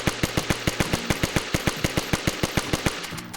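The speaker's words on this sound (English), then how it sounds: "This gun fires as fast as you can pull the trigger." A new .22 caliber rifle in DayZ fires rapidly: a fast, even string of about twenty sharp, loud close shots at a steady rhythm, with no voices.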